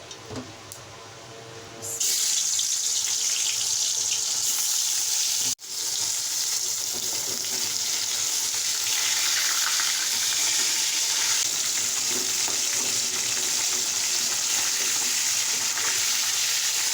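Pieces of pangas fish fry in hot oil in a wok, giving a loud, steady, close sizzle that swells after a quieter start and keeps going for the whole stretch, with one brief dip partway through.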